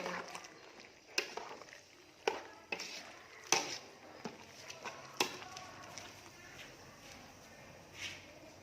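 Chili peppers being sliced on a board, irregular knife taps and soft chops close by, with faint background voices and kitchen noise.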